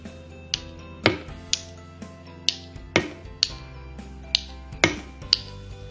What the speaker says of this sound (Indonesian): lakukan ketukan sesuai irama gambar ini ya